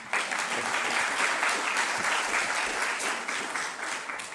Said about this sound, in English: I would like a round of applause for our Mayor Genter, please.